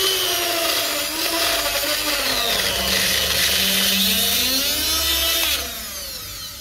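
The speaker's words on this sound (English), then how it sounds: "Got the Dremel connected up" A Dremel rotary tool cuts for a wheel stud on a Chrysler 300S, a continuous high whining grind with shifting pitch that stays loud and close, then eases slightly near the end.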